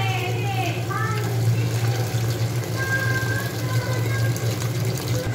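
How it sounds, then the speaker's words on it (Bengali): Water being poured off pressure-cooked banana flower, a steady splashing stream into a sink with a low hum beneath and a voice talking over it. "এই জলটা আমরা ফেলে দেব।"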